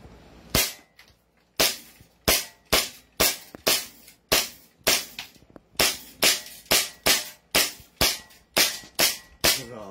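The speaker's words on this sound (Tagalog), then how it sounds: "Okay, the John Wick Pit Viper, siya yung pinakamahal, pinaka-upgraded, CNC finish, full steel version. Yes, sir. Naka-safe pa, sir. Yes, sir. Yeah, okay. Firing" A John Wick Pit Viper pistol, the full-steel version with a CNC finish, fires about sixteen sharp, loud, close shots in quick uneven bursts. No one speaks.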